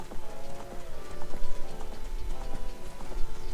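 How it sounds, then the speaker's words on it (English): Horses at Lon Lon Ranch in The Legend of Zelda: Ocarina of Time, with a steady run of rhythmic clip-clop hoofbeats over game music and ambience. "here we are in Lon Lon Ranch in the daytime, and this is where most of the horses run"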